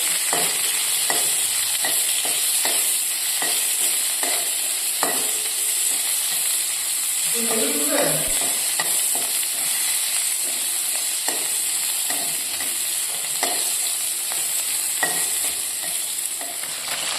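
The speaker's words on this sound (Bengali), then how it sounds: "দিয়ে শাকটা এবারে ভাজা হবে।" Leafy greens with garlic, onion, cumin and dried chilli are stir-fried in a hot pan: a continuous close sizzle punctuated by regular scraping and tossing strokes of a spatula, with a brief clatter midway and no voices.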